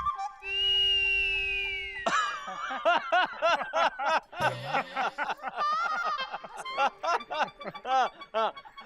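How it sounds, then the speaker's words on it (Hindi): A person whistling at a girl: a drawn-out whistle note at the start, followed by rapid, chirpy bursts of vocal sound and snickering, fairly quiet and close. "अरे लड़की को देख के ऐसे सीटी मारता है"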